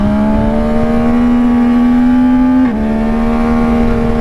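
A Yamaha Tracer 9 GT motorcycle pulls hard out of a corner, its engine a loud, steady, rising drone with a brief dip as it shifts gear, then pulling on.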